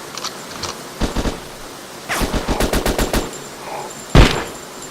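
Rapid machine-gun bursts and single shots from the video game Genocide Dolphins crack loudly in short repeated volleys, with a heavier blast near the end.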